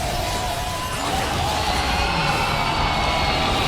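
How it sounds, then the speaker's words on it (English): A large esports crowd at the 2023 League of Legends Mid-Season Invitational roars and cheers continuously, a dense wash of excited shouting at steady high volume. "Elation from the crowd as Loud will win their first game."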